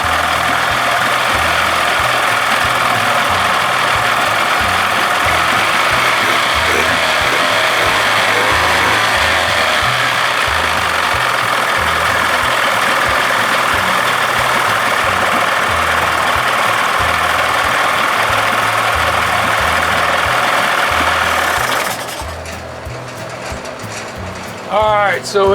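A 1979 Evinrude 55 hp outboard motor runs close and loud at a steady idle with a rapid rough knocking pulse, then cuts out near the end, leaving quieter background sounds.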